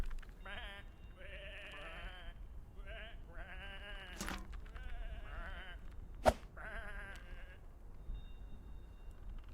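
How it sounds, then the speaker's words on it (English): Sheep in the video game Whateverland bleat in a series of wavering, nasal calls, several overlapping at moderate distance, with one sharp click partway through over a quiet background. "these are just sheep."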